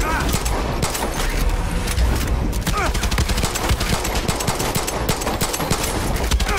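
Rapid automatic gunfire in Far Cry 6, with shots aimed at a pet alligator: a loud, relentless stream of sharp cracks that barely pauses from start to finish.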